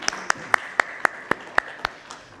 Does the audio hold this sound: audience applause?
yes